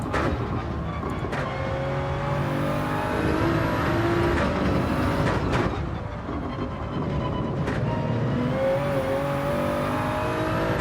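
Race car in Gran Turismo 7 on the Nordschleife, engine note held steady then rising as power comes on out of a corner, loud and continuous with brief tire scrubs, no talk.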